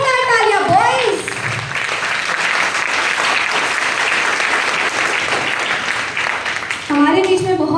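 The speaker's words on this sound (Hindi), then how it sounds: "I said जोरदार तालियां, boys" A large crowd of boys in an audience breaks into loud, sustained applause after a call to cheer for themselves, dense clapping filling several seconds, with voices speaking briefly at the start and end.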